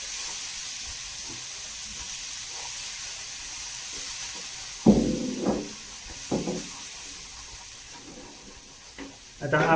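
Corn upma paste cooks in a pan over a low gas flame, a soft steady sizzle and hiss broken by a few louder scraping stirs of a spoon, with faint talk in the background.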